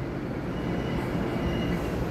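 An EMU900 electric multiple unit, a ten-car silver-green local train, runs along the Yilan line. Its loud, steady rumble of wheels and motors rolls by close at hand without a break.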